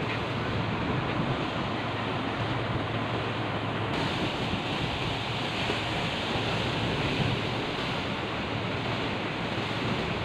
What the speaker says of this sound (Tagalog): Oh, malakas ang alon.